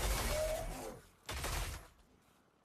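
Zeri's overcharged triple-shot burst fire in League of Legends, a loud crackling electric volley that fades out, followed by a second burst, each standing alone without talk.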